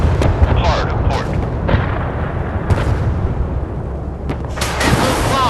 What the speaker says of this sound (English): Missiles launched. The target destroyed.